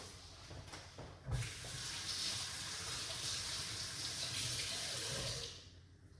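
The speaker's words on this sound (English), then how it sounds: "So I just wash it off." Meat being rinsed under a running kitchen tap, a steady hiss of water splashing into a sink that begins after a brief knock and tapers off near the end, fairly quiet and with no talking.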